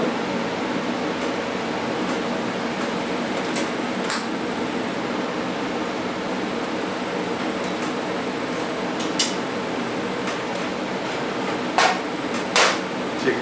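A TIG torch fed with filler rod builds up low spots on a back wall that was cut with a cutoff wheel. A steady, close hiss runs throughout, broken by a few faint ticks and clinks.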